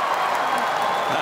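Crowd applauding during Hound Group judging at the 2019 Westminster Kennel Club Dog Show, a dense, steady wash of clapping and cheering from a large arena audience.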